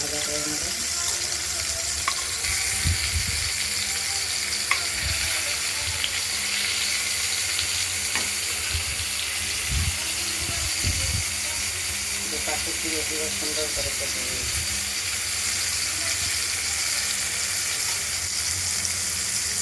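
Pointed gourds (potol) fry in an uncovered kadai, giving a constant loud hiss of oil and steam with occasional dull low knocks as the pieces are turned.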